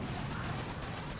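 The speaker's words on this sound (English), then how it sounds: "send in a couple of artillery onto this artillery" Artillery fire in the mobile strategy game Boom Beach, a dense, loud burst of booming blasts that fills the whole short moment.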